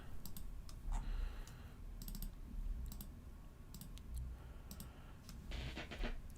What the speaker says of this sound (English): Apologize if you hear lots of clicking.